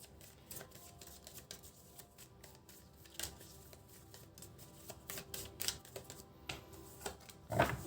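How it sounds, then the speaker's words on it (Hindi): Tarot cards shuffled by hand during a love reading, a quiet run of soft rapid riffling clicks and taps with a few louder snaps toward the end, close and alone without talk. "archangel Michael, thank you, give me 2 more cards"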